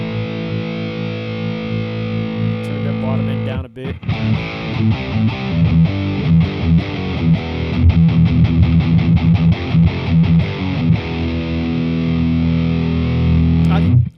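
Electric guitar runs through a Boss Katana MkII amp with distortion and boost, a sustained chord ringing before a brief cut, then loud, driven riffing with choppy strummed rhythms; a voice briefly speaks over the playing.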